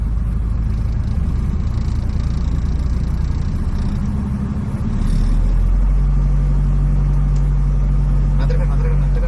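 A car pulls away during a driving lesson, its engine a steady low rumble that deepens and rises as the clutch engages, close and constant throughout, with people talking over it.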